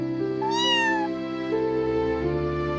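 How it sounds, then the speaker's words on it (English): A single cat meows once in a short, rising-then-falling call over a steady, sustained musical tone in the background. "Meow."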